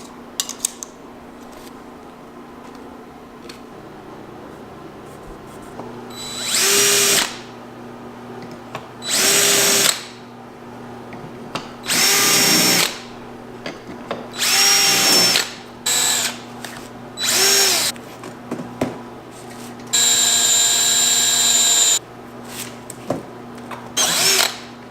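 A power drill bores holes for pop nuts in a Jeep body, with about eight loud, close whining bursts of a few seconds each over a low steady hum, separated by quieter gaps.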